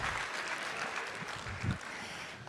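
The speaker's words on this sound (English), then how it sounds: "can we give all those students a round of applause?" An audience applauds the students at a 5th–8th grade school band concert. A soft, continuous patter of clapping fills the room, with a few faint voices underneath.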